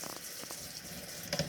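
Warm tap water runs steadily into a sink for washing eggs, a continuous close splashing hiss with a brief louder gurgle near the end.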